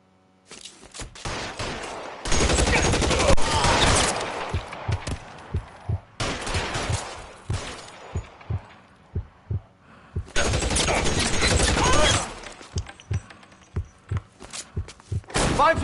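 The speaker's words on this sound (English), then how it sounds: "Shots fired." Bursts of sustained automatic gunfire alternate with single heavy shots in a police shootout in the game L.A. Noire, loud and near, with short quiet gaps between volleys.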